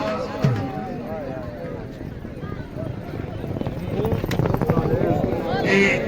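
Horse hooves clip-clop at a tent pegging riding event in Piplan, Mianwali, a steady run of hoofbeats beneath constant loud crowd chatter and an announcer's voice.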